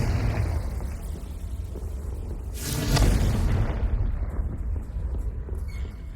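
Confringo blast spell in Hogwarts Legacy, a single loud burst erupting near the middle with a bright crackling flare and low boom, then settling into rumbling ambience.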